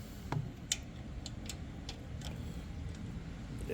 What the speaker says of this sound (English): So I'm using my wrench to tighten it back up.